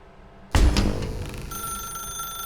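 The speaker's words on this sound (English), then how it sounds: "Did you just unplug the phone?" Telephone ringing in the game The Stanley Parable, starting abruptly with a loud clattering burst, then settling into a sustained shrill electronic ring that carries on steadily, close and alone.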